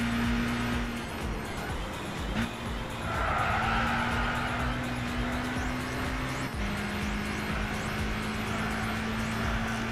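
Race car accelerating in Gran Turismo 6 on PS3, a steady engine whine that holds its pitch and shifts up twice, played fairly quietly against a dull background rumble.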